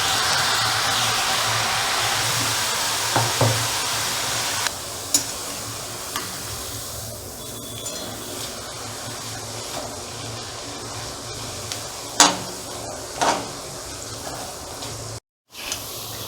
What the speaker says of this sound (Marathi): याप्रमाणे दोन्ही बाजूंनी शेव तळून घ्यायची आहे